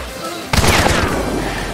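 Gunfire erupts in the multiplayer shooter Hunt: Showdown, a sudden loud blast followed by a dense ringing burst of shots that carries on steadily for over a second, with no talk over it.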